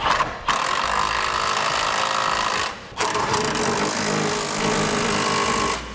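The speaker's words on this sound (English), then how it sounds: "Now we'll tighten down our bolts here that do our C-clamp to the frame." A power impact tool tightens bolts on the frame brackets of a Curt Double Lock flip-and-store gooseneck hitch, two loud sustained rattling bursts separated by a brief pause, close by, with no talking.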